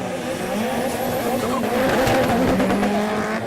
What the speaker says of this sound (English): Away we go, great start by Thompson McIntyre, who leapfrogs the Ford Escort Cosworth off the grid